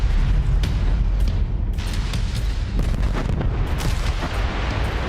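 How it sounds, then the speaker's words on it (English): Explosions in the mech combat video game MechWarrior 5, a dense continuous barrage of deep booms and blasts layered over each other, loud and close throughout. "Explosions look a little janky."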